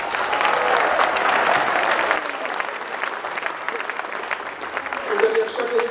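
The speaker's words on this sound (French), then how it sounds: "Elle mérite vos applaudissements nourris." Sustained audience applause at a celebration for the President of the Grand Council, dense and loud for several seconds before tapering into scattered claps, with a voice rising near the end.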